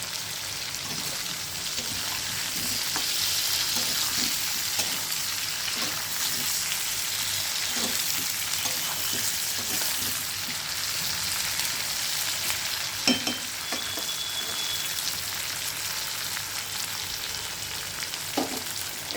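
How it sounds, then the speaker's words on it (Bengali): Onions and potatoes frying in a pan give a continuous, moderately quiet sizzle with occasional stirring clinks and pops. "পেঁয়াজ আর আলু ভালো করে ভাজা হয়ে গেলে এবার আমি দেব রসুন বাটা"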